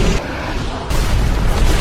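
A bomb explodes on a floor in the film Elysium, a loud, close, sustained boom with a second surge of blast partway through and no voices.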